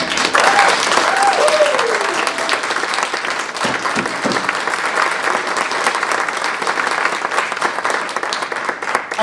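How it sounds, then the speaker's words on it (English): Enthusiastic applause for teachers at a regional poetry recitation final, loud continuous clapping from a big audience with a few whoops and a brief voice rising over it near the start. "I'd like you to give them a huge round of applause."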